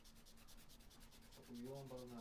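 Sandpaper rubs back and forth on a plastic Gundam model part in quick, steady strokes close by, a soft scratchy rasp that grows slightly louder near the end.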